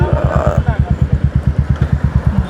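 A Royal Enfield Meteor 350 fitted with an aftermarket exhaust idles close by, its single-cylinder thump pulsing in a steady, even rhythm and loud throughout, with a brief voice over it early on.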